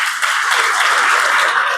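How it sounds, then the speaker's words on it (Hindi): Steady applause from a crowd, dense clapping that fills the whole moment without pause, loud and close. "बहुत बढ़िया, तालियां बजाइए।"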